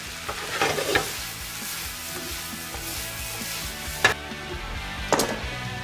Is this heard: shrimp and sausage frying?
yes